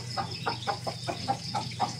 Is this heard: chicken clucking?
yes